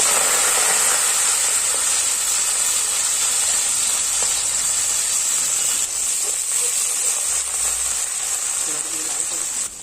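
Green fenugreek leaves sizzle in hot oil with turmeric in a pan while Chhattisgarh-style Katla fish curry is cooked, giving a steady, loud hiss that runs unbroken throughout.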